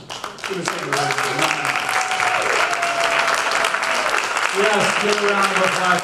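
Audience applause at a storytelling night, steady clapping building up after a brief start and continuing throughout, with a host's voice speaking over it.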